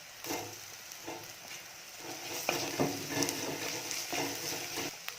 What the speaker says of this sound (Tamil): வெங்காயம் வதங்கிடுச்சு இஞ்சி பூண்டு பேஸ்ட்டு போட்டுக்கலாம்